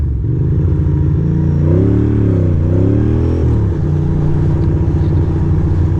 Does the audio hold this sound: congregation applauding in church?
no